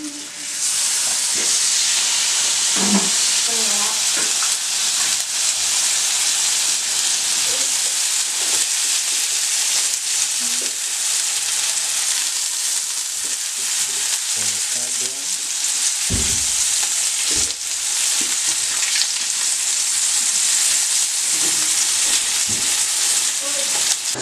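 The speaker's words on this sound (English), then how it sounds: "In there while the bacon's cooking." Bacon and hamburger patties fry in a hot pan with a steady, loud sizzle and hiss that runs unbroken throughout, along with occasional faint clinks and stirring.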